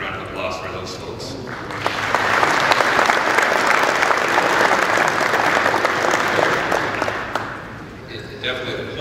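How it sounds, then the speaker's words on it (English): A crowd at a Veterans Day ceremony breaks into steady applause that swells, holds for several seconds, then fades out, with a voice picking up near the end. "please, if we can give a brief round of applause for those folks"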